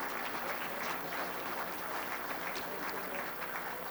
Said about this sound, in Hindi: आप सब जोरदार ताली बजा के उनका स्वागत करें।